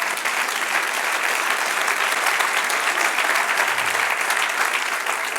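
A church congregation bursts into dense, sustained applause throughout, loud and even, filling the room with no speech over it.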